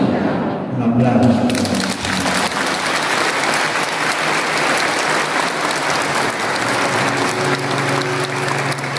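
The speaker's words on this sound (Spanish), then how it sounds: "Un aplauso." A church congregation at a Mass for the Nativity of the Virgin Mary breaks into sustained, dense applause, a loud continuous wash of many hands that fills the room, with faint voices mixed in beneath.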